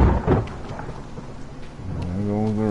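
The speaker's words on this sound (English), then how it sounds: "There goes the rain again." Rain falls steadily with a low rumble of thunder rolling underneath, broad and close, settling into a more even wash near the end.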